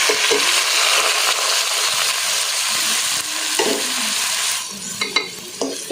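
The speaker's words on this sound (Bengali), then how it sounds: "চালগুলোকে আমি একটু হালকা ভেজে নেব।" Rice fries in soybean oil with browned onions in a pot for biryani, producing a loud, close sizzle with scraping stirs that thins out into a few sharper knocks near the end, with no speech.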